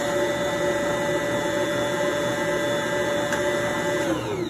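A mixer motor works whole wheat bread dough with a loud, continuous whir, its steady tone shifting slightly near the end as the load changes.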